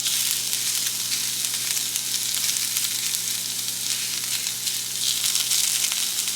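Pork chops browning in a skillet over medium heat, giving a loud, steady, close hiss and crackle of frying that runs the whole time without talk.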